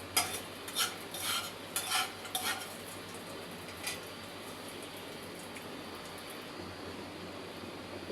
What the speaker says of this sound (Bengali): এখন আর আমার লাড়াচাড়ার কাম ঘুটাঘাটির কাম শেষ হয়ে গেছে